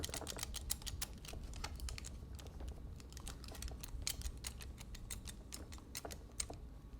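A thermal curling iron clicks repeatedly while winding hair in a croquignole curl, producing quiet, irregular sharp ticks and clacks in quick succession over a soft background, close up with no talking.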